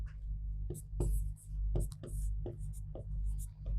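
A pen scratches across paper in short, quiet strokes while notes are written during a history lesson, with soft, faint background sound between the strokes.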